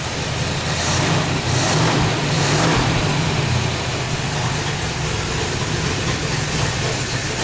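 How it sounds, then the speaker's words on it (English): A 1957 Corvette engine idles steadily with freshly set ignition timing, a constant low rumble with no talk over it. "I set the initial timing at about 15, and it will idle."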